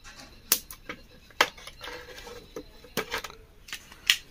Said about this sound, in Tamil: இப்போ நம்ம கட்டர் வச்சு கட் பண்ணி எடுத்துக்கலாம்